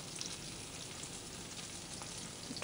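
Potatoes and eggplant fry together in a single batch of hot oil in a home kitchen, giving a soft, steady, continuous sizzle with faint crackles and no talk over it.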